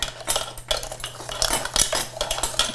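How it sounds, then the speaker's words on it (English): Apple pie filling stirred together in a bowl, with quick close clinks and scrapes of a utensil against the dish in an uneven rhythm and no talking. "All right, so we're going to stir this"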